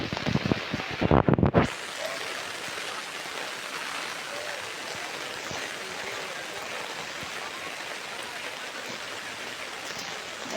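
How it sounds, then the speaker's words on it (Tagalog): Heavy rain pours steadily as a dense, constant hiss, broken only by a brief loud burst of knocks or thuds near the start, then continuous downpour to the end. "Umuulan ng malakas, hanggang ulan ng ulan."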